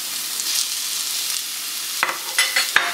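Onion and bell pepper fry in vegetable oil with a dense, even hiss of sizzling, close by. Near the end a few sharp scrapes and clinks of a spatula stir the pan, and no one speaks.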